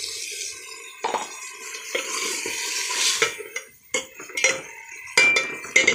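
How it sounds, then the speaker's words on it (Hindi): A little water is poured into a pan of well-roasted food, with a close splash and sizzle mixed with clinks of a spoon against the pan and stirring sounds. "इसको अच्छी तरह भून के अब ये इतना सा थोड़ा सा पानी डाल रही हूँ"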